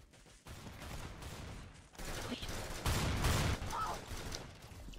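Rapid bursts of gunfire in the Arsenal video game, dense and loud over a few seconds with faint background game noise.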